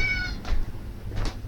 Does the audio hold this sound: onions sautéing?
no